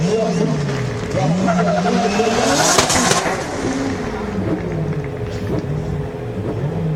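A drift car of about 450 horsepower revs hard on the Hungaroring race track, its engine note rising and falling continuously behind commentators talking.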